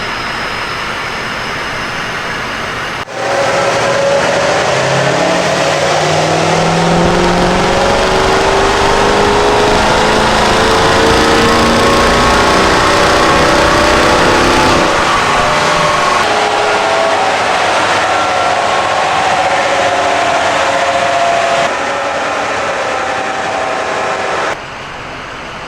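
A high-mileage Ford 6.0 Powerstroke diesel truck with around 300,000 miles, running on a dyno. It makes a loud, sustained engine roar that builds after a short quiet start, holds steady for about twenty seconds, then drops off near the end.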